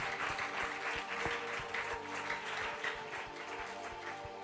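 A church congregation claps together in a sustained, dense burst of applause at a closing night vigil, steady and loud throughout with no voices standing out.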